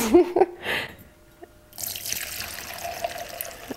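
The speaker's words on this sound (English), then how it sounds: "we're going to need to take the cranberries out of the equation. So again, I have my handy strainer" Water and cranberries drain through a kitchen strainer, with a few splashing drips at first, then a steady, moderately loud trickle and pour of liquid.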